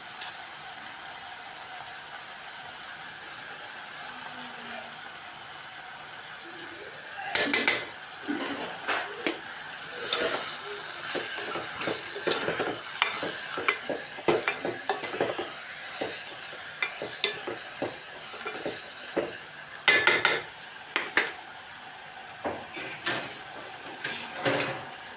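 A spoon scrapes and clatters irregularly against a pan while a curry cooks with salt and tomatoes in a home kitchen, a soft steady sizzle underneath and sharper bursts of stirring at close range.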